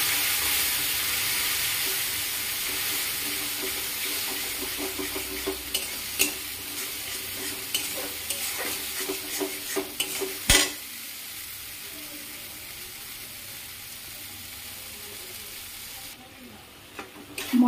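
Spice paste of chilli, turmeric and nuts fries in a pan with a strong steady sizzle after water goes in, broken by stirring scrapes and clinks that fade toward a quieter end.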